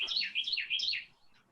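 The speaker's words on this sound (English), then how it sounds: "You hear the bird saying, "Do not chop down my trees."" A pet bird calls in a quick run of bright, repeated chirping notes, loud and close, before tapering off into quiet; no talking over it.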